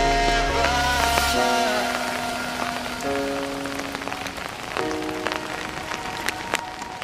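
Steady rain patters onto an umbrella during a windy rain walk, a dense close hiss with scattered sharper drops, while sustained musical tones play over it.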